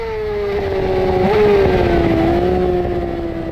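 A Yamaha R6 racing on a track, its engine howling in one sustained high-revving note that climbs, dips briefly at a shift and holds loud and close throughout.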